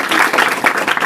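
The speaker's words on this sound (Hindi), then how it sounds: "तालियां बजाते रहना" Dense clapping from a school audience applauding prize-winning students, steady and loud for the full second.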